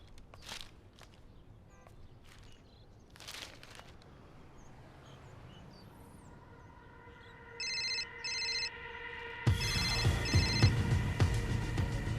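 A telephone rings in a family home during a breakfast scene from a Hindi-dubbed film: two short, bright ring bursts are followed by a louder swell of background music.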